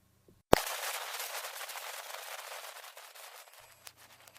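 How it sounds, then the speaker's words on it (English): A sharp click, then a broad hiss of crackling static that holds steady for about three seconds before cutting off, leaving a faint low hum. "did you hear that static a second ago? That's the sound of space."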